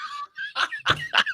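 A person imitates a big dog with a few short, close, voiced yelps and barks in quick succession.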